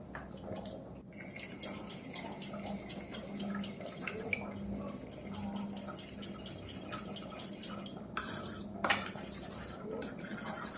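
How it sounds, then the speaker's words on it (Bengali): Eggs being whisked with black pepper and salt for an omelette, a fork clattering rapidly against a bowl in quick rhythmic strokes, close and continuous, with brief pauses and no speech. "ডিমগুলোকে এবার আমরা গোলমরিচ আর সামান্য লবণ দিয়ে ফেটিয়ে নেব।"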